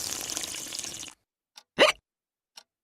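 A child's hiccups after drinking water: running water from a tap stops, followed by a short, sharp hiccup and a couple of fainter catches in near silence.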